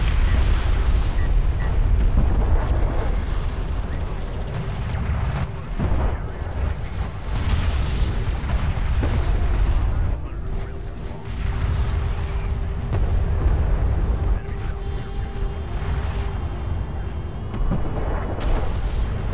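Continuous heavy booms and explosions from railgun combat in a real-time space strategy game, loud rumbling blasts overlapping one another with a constant low roar and no clear gaps.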